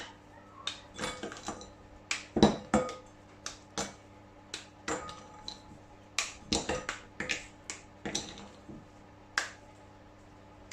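Chocolate being broken by hand into small pieces for melting in a microwave for a chocolate mascarpone cake: a quick series of sharp, close snaps and cracks in an irregular rhythm, with no talk.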